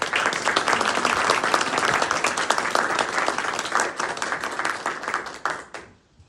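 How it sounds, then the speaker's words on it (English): Audience applause at a parish meeting of Grace church in Ossining, a steady wash of many hands clapping for about five seconds before thinning out and stopping at the end. "So I think another round of applause for Kate would be great."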